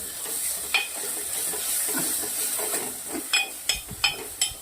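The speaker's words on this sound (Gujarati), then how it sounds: "ગેસ ધીમો કરી દેવાનો છે ધીમા તાપે ત્રણથી ચાર મિનિટ સુધી આને પાકવા દેવાનું છે" Kathiyawadi eggplant bharta with green garlic and lemon juice cooks in a pan over a low flame, giving a steady soft sizzle and hiss, with several sharp clinks of a spoon against the pan toward the end.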